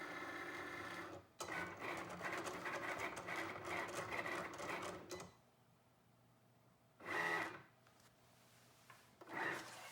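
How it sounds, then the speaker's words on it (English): A Cricut cutting machine slicing out a clover design, a fast buzzing mechanical whir running in several bursts with short pauses between, close and fairly quiet. "now your Cricut machine will do the work for you. It'll do its cutting magic and cut out that clover design"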